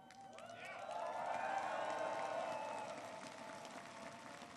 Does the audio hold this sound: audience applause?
yes